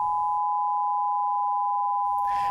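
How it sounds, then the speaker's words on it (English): Two pure sine tones sound steadily together, drifting apart in pitch in a roughness demonstration, loud and clean, with brief background noise at the start and a noisy burst near the end. "And now, as the tones continue to separate, suddenly two tones, then calm and beautiful again."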